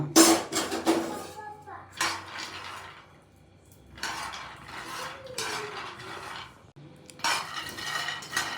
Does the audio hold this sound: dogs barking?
no